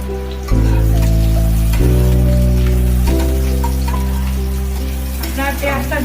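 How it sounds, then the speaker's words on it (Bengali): Onion fries in oil with nigella seeds for dahi katla, giving a steady, rain-like crackling sizzle that runs throughout under prominent background music. "কালো জিরে দিয়ে পেঁয়াজটা আমি ভাজতে লাগলাম"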